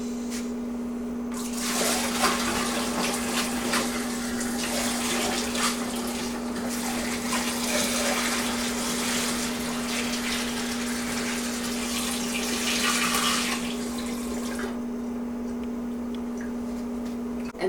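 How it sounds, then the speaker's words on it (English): Sweetened distilled water, table sugar dissolved in water, pours into a base wine container as a steady close splashing stream with a constant hum underneath, starting after a moment and easing off near the end. "to it we're going to add some sweetened distilled water"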